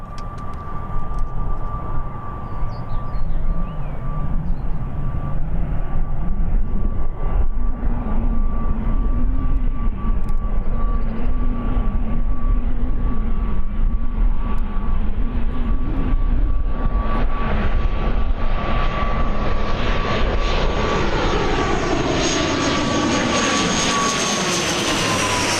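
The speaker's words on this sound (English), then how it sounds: "Aer Lingus ATR 72." An Aer Lingus ATR 72 turboprop at Birmingham Airport makes a loud, sustained engine roar with a steady high whine that swells near the end as the engines power up.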